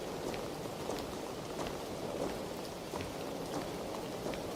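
Steady rain falling, with drops pattering on red leaves along a wet path, a dense even hiss of close rainfall with faint scattered drips and no voices.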